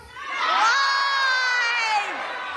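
A live audience shouts and cheers loudly at a talk-show event when the host puts a question to them. The whoops swell quickly, hold for about two seconds, then fade out.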